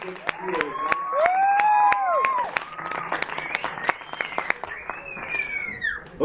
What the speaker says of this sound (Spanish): Un aplauso a nuestra Celsius.